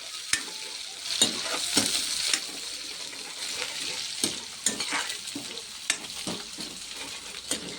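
Crushed green chillies go into hot oil and fry with a continuous hiss, and a spoon stirring them makes intermittent clinks and knocks against the pan.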